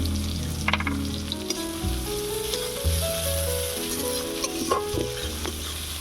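Chopped onion and garlic paste frying in a pan for a Bengali prawn curry with lentil dumplings: a loud, steady close sizzle broken by several scraping stirs of the spatula, with no talking.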